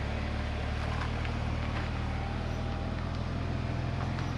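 A BMW 330xi running and driving, heard as a steady low engine drone with road rumble from inside the cabin, continuous and even throughout.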